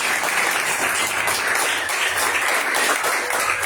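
A church congregation applauds after a sermon reading, a loud, dense wash of many hands clapping together, steady and sustained with no pauses.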